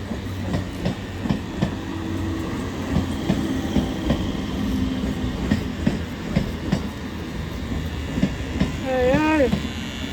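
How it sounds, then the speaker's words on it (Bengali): A train pulls into a railway station, wheels clattering over rail joints in a steady rhythm, with a brief high squeal near the end and faint voices around. "আর ট্রেনও ঢুকে গেছে"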